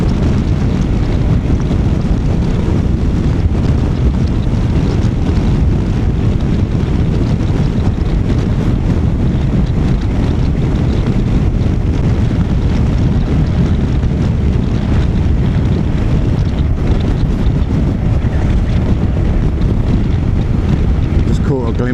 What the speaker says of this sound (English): it's just the wind.